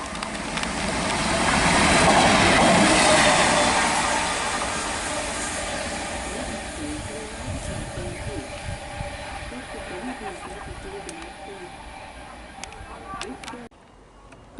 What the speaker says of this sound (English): passing through now, we've got a light engine 66 working from Margam to Alexandra Dock